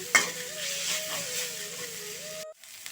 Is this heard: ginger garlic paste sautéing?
yes